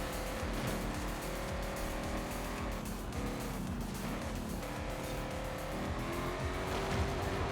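A car drifting in the racing game Forza Horizon 5, its engine droning steadily and loudly throughout with sustained tire squeal layered over the constant motor roar.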